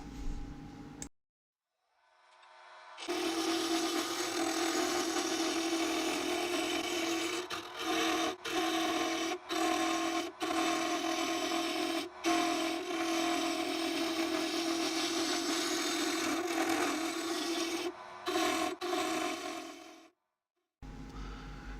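A hard, dense black African wood wand is cut down on a woodturning lathe, giving a steady, loud rasping scrape that runs for long stretches with brief pauses and a near-silent gap at the start and end.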